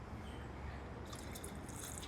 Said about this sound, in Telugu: ప్రజెంట్ అయితే దీని లోపల వాటర్ వేస్తున్నా.